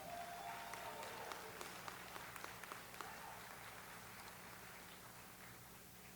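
Faint, distant applause from graduates at a winter university commencement ceremony, a soft continuous patter of many hands clapping without pause behind a quiet hall ambience.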